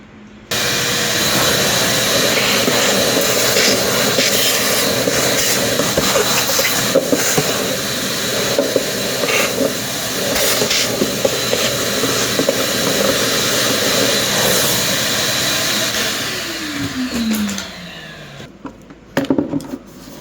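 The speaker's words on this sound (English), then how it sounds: "So I'm gonna vacuum this, bring it back." A steady loud hissing roar, like a vacuum cleaner running close by, continues for most of the clip before winding down near the end.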